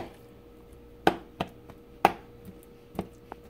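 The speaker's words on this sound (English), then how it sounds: "I do like to take my fork and kind of like poke holes in it so the seasoning can go through" A fork jabbing holes into raw ribeye steaks on a board, a handful of sharp, separate taps and thuds at uneven intervals, close and clear against a quiet background.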